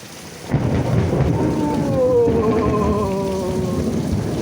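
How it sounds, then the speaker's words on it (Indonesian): Thunder rumbling through a rainstorm, a long deep roll swelling and fading under steady hissing rain. "petir, suaranya menggelegar"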